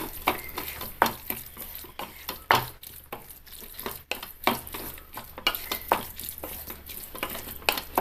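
Mashed brinjal masala seasoned with pepper powder being stirred and fried in a pan, rhythmic scraping strokes over a low sizzle, close and repeating steadily, without any talk.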